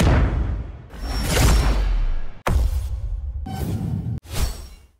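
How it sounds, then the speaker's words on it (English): Hit and impact sound effects from a sound design pack play one after another: four loud, heavy bursts with sharp attacks and deep low-end rumble, some with sweeping tails, and no voices. "Hits and impacts."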